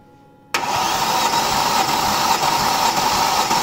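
A 1999 Mercedes ML430 petrol engine (278 hp) cranks on its starter during a compression test, bursting in loudly after a brief silence and churning steadily and evenly to the end with no voices.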